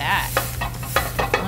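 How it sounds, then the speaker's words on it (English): Beef and ricotta burger patties sizzle in a hot pan, the steady crackle swelling in short bursts each time a patty is pressed down, close and continuous with no voices. "We have our four patties here. I'm gonna put them right in the pan. Press it down."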